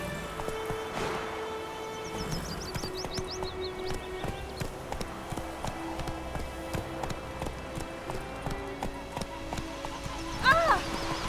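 Horse hooves clip-clop steadily in Witcher 3 while the horse is urged along, rain patters in the background and a game soundtrack plays along, with a brief whinny near the end.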